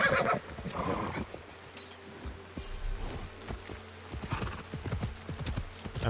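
A horse's hooves clip-clop at a walk in a feudal Japan video game, with a whinny near the start and steady hoofbeats continuing throughout, fairly close and clear.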